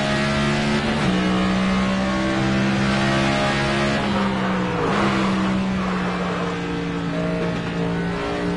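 A race car engine at full throttle in NASCAR 25, a loud steady drone with harmonic whine that dips briefly as gears shift near the one- and five-second marks, then climbs again, continuous with no talk.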